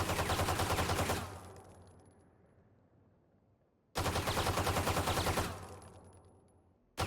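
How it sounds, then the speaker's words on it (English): A fully automatic pistol in Valorant, fired in two bursts of about a second each with rapid, evenly spaced loud shots and a fading tail after each burst, alone with no talking. "hold down mouse 1 and show you the fully automatic clip shoot off"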